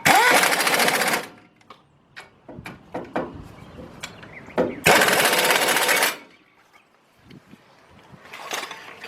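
Power tool bursts drive two 18mm bolts tight on the front brakes of a 2003 Lincoln Navigator during a rotor job, two loud sustained whirs about a second long each, separated by clanks and handling noises, ending with scattered clatter.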